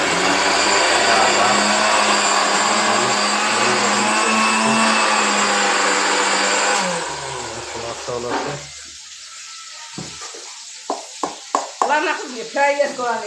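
A blender grinds garlic into a fine paste in a village kitchen, a loud, steady motorized whir that runs for about seven seconds and then cuts off, leaving quieter moments with people talking.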